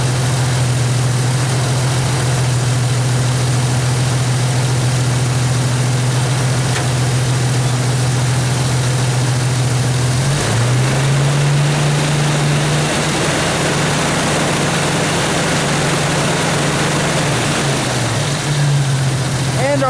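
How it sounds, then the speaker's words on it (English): A Jeep Wrangler engine idles with a steady low drone, then partway through is revved up to about 1500 RPM, where it holds a raised, even hum. It is loud and constant, with no clear talking. "I'm going to rev it up to about 1500 RPMs"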